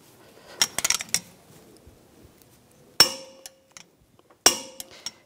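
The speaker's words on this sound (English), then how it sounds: "Now we're going to torque this nut to 147 foot-pounds." A wrench torquing the front CV axle nut on a 2010-2014 Volkswagen GTI, with a pry bar holding the hub: a cluster of sharp metallic clanks and rattles, then two loud, crisp clicks with ringing tails in a quiet garage.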